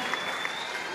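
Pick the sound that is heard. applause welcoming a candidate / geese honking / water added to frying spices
applause welcoming a candidate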